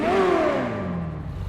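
C8 Corvette Z06 engine in GTA 5 revving loudly up and then easing down, a steady mid-pitched roar that falls in pitch as it settles.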